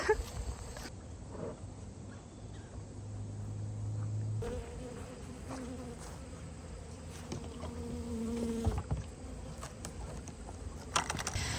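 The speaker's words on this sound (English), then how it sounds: "just judging how many bees are on them" Honeybees buzz faintly around a winter feeder, a soft, steady insect hum with scattered small clicks and knocks close by.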